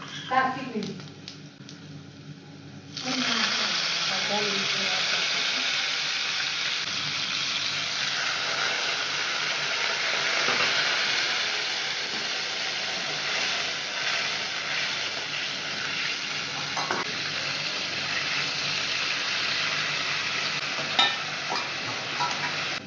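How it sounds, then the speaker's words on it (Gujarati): A pan of sugar water with a tempering of mustard seeds, asafoetida, curry leaves, green chillies and sesame seeds for Gujarati sev khamani starts to sizzle loudly after a quiet start and is stirred throughout, with occasional utensil knocks in a steady, dense hiss. "સેજ ખાંડનું પાણી બળે ત્યાં સુધી હલાવીશું આપણે"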